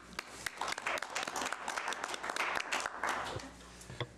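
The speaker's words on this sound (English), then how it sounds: "I appreciate the round of applause for having survived another year." A round of applause in a city council chamber marking a councillor's birthday, a moderate burst of many hands clapping together, fairly close, with some voices mixed in.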